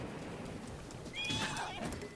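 A horse in the game Breath of the Wild gives a single high, wavering whinny over a low rumble of background game sound, close and clear.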